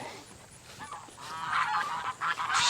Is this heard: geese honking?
yes